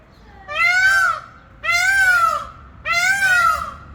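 Birds give a cat-like meowing call three times, each rising and falling. The calls are loud and close, separated by short pauses.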